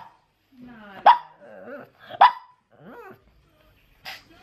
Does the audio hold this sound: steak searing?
no